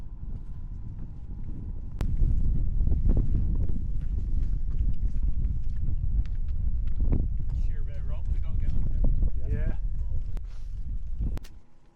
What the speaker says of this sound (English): It started to get a bit more windy at this point.